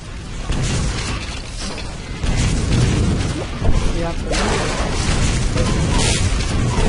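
Rocket launcher fire and explosions in the video game Quake Live, a dense loud wash of booms and mechanical clatter under continuous talking.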